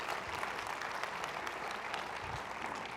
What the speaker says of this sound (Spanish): den un aplauso al Señor que Él se lo merece